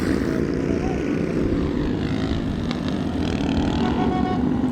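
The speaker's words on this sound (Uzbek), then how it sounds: "Bunda mana samolyot." A steady low engine drone of an airplane near an international airport, heard from a moving vehicle with constant background rumble and no clear speech.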